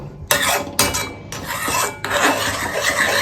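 A spoon stirs an ingredient into baby food in a pot, giving close, continuous scraping and rasping strokes, with short breaks between bursts of stirring.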